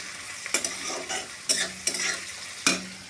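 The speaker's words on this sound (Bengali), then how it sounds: "নাড়াচাড়া দিয়ে দেবো" Broad bean seeds and potato stirred in a pan, a spatula scraping in a few distinct strokes over a soft sizzle, close and clear with no talking.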